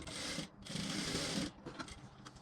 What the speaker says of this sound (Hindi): इस एरिया को भी इस प्रकार से आप सिलाई कर सकते हैं